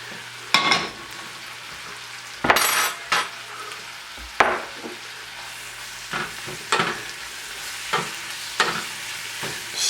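Spinach wilting in a frying pan with seasoning, a soft background sizzle punctuated by sharp, irregular stirring and scraping strokes of a utensil against the pan, close by, no talking.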